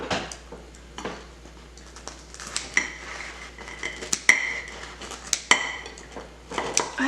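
A knife saws through soboro red bean bread with a crumbly, crackling crunch. Sharp clicks and taps against a board or plate repeat irregularly throughout, close and fairly quiet.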